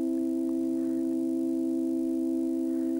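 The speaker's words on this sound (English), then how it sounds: "This chord is a third," A chord built on the interval of a third holds steady and unbroken throughout, its stacked tones sounding clear and even with no talking over it.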